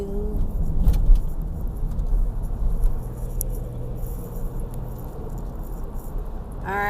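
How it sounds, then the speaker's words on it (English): A 2006 Dodge Grand Caravan minivan driving on the road, heard from inside the cabin as a steady low road and engine rumble with light rattles, fairly loud and continuous. "I drive a 2006 Grand Caravan."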